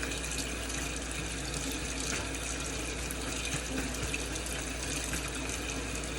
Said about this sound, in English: So I just want to rinse that off. I'm going to rinse off my half cup